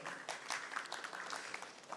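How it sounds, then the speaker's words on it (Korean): An audience applauds at a Korean science and technology symposium as a panel discussant is introduced: a faint, steady patter of many hands clapping, dense and continuous for the whole stretch, with no voice over it. "큰 박수 부탁합니다"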